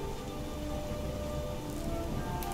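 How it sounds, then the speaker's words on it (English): Steady, soft rain patters continuously on a surface in the video game Skyrim, a constant hiss of drops with no voices. "I think the rain is clearing."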